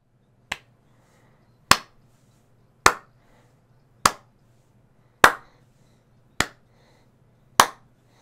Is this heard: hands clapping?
yes